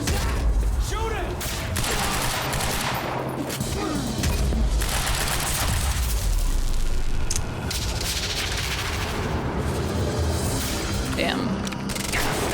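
Gunfire erupts in the action video game Quantum Break as a dense, booming fusillade of shots and mechanical clatter runs throughout, mixed with shouting voices and game dialogue.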